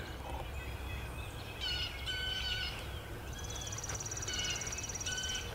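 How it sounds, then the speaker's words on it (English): A chipping sparrow's dry, rapid trill repeats a few times over steady outdoor background noise, clear but moderately distant. "It's a chipping sparrow."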